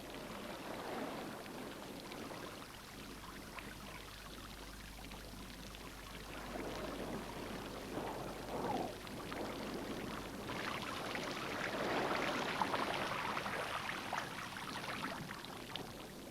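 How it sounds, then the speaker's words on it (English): Water pours and splashes steadily from burst pipes at an abandoned whaling station on South Georgia, a faint continuous gushing with shifting surges and no voices. "It's just that the pipes have burst."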